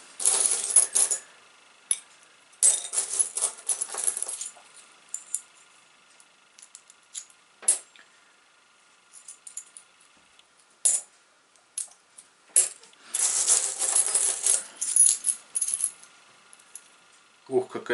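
Metal coins clink and jingle in bursts as found coins are sorted by hand, sharp close rattles separated by quiet pauses and isolated single clicks.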